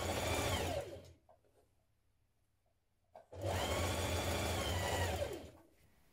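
A sewing machine hems the tiered skirt of a floor-length ruffle dress in two close, loud bursts of rapid whirring stitching separated by a silent pause of about two seconds.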